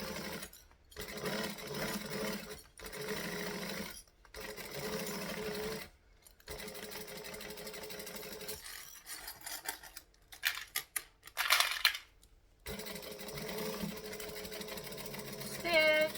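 A sewing machine stitches and backstitches a seam on a Traudy Triangle Bag, running in bursts of fast whirring separated by short pauses, close by, with a person talking between runs.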